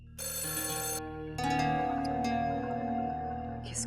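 A telephone rings in a home, a loud bright electronic ring in two bursts with a short gap, close and sustained with no voices.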